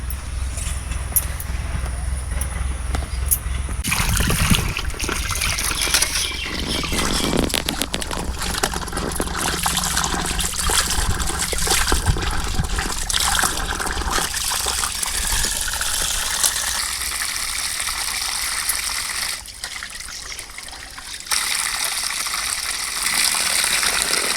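Herb leaves are rinsed and sloshed in water, a steady gushing, splashing wash that runs continuously close by, with occasional louder surges and no talking.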